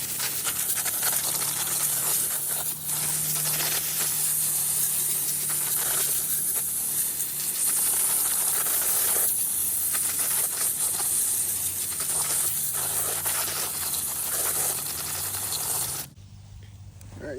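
A steady hiss of water sprayed onto BMW E46 car parts runs close by, with rubbing and splashing textures shifting throughout before cutting to quiet at the end.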